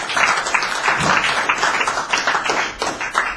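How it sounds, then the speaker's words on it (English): Audience at a live poetry show claps and applauds, a close, lively patter of individual claps with uneven bursts over a short stretch. "Give yourselves a big fucking round of applause."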